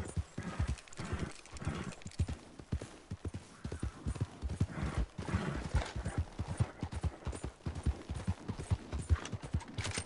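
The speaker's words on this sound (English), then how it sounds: "The amount of time I spend going around this map on a horse" Horse hooves clip-clop steadily in the video game Red Dead Redemption 2 as a horse travels across the map, a close, continuous rhythmic trotting with an occasional whinny mixed in.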